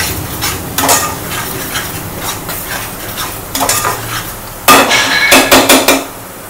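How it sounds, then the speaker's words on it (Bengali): Masala and chicken are stirred in a cooking pot with a metal utensil, making repeated loud scraping clatters over a low sizzle, with a quick burst of clanking strokes near the end. "এখানে মশলাটা দিয়ে এখন নাড়তে হবে"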